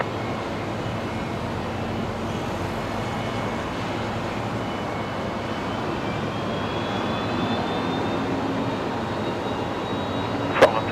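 A steady broadband roar of aircraft at Brisbane Airport at night, a distant jet engine droning evenly throughout with a faint rising whine, and a brief sharp click near the end.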